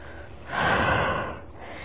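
A single long breath pushed out during a mat exercise workout, a soft breathy rush that swells for about a second and then fades, heard close and alone without talk.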